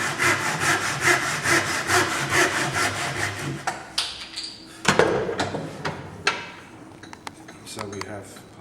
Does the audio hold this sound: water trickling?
no